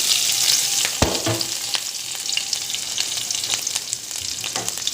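Cumin, ginger and chopped green chilli fry in a pan with a bright, continuous sizzle, punctuated by a sharp clink near the start and scattered light crackles and stirring taps, close and steady.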